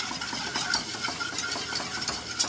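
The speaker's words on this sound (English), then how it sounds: "And we'll whisk that in." A whisk works flour into a bone-broth sauce in a pan, a quick steady scraping and swishing rhythm up close, with soft liquid sizzle and no talking.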